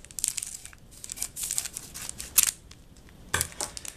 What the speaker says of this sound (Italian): Prendiamo delle forbici